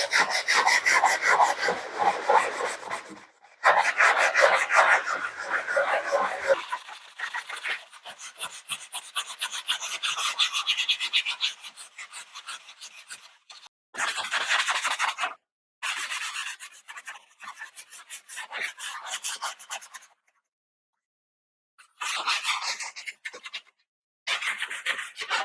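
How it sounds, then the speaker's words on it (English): Sanding sponge worked over dry plaster on a wall, a close, rhythmic scratchy rubbing in fast back-and-forth strokes, running in several bursts separated by short pauses. "we're just going to take our sanding sponge and sand this down"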